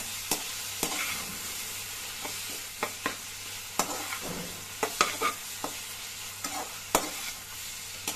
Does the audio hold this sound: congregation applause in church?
no